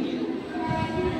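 A CST-bound suburban train stands at the Kurla railway station platform in Mumbai, giving a steady, continuous rumble and hum mixed with busy platform ambience throughout.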